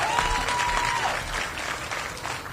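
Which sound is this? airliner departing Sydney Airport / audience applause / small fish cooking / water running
audience applause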